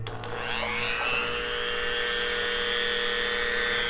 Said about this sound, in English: let me go ahead and start the drilling process